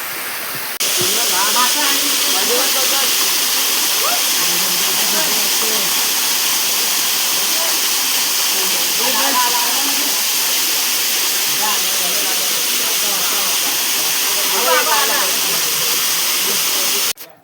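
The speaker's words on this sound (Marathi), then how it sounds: "आता तुम्हाला पाण्याचा आवाज येईल जास्त" A stream in the Konkan countryside rushes steadily and loudly throughout during a fishing outing, with voices faintly audible beneath the flowing water.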